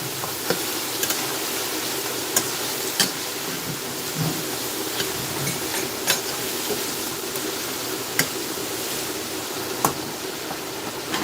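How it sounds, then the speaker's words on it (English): Steady broadband hiss of water boiling in a kettle, with occasional faint clicks and pops rising through a constant rumbling bubble, no one speaking. "you hear the kettle boiling"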